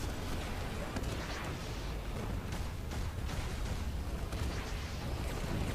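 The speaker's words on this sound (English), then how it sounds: "the ragdoll physics good to show off how ludicrous the explosions are" Dense, continuous rumbling blasts and pops of explosions in the game Prototype 2, a constant barrage of booms with no pause.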